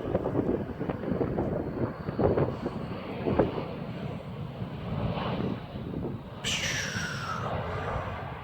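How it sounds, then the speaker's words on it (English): A UPS cargo plane comes in to land at Philadelphia International Airport, its engine roar rising over steady wind buffeting the microphone, with a descending jet whine appearing near the end. "oh, that's a UPS plane"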